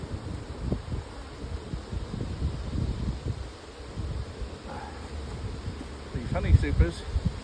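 Honey bees buzz around an opened split hive during a honey harvest, a steady low hum mixed with rustling handling noise and some wind, with brief closer buzzes near the end.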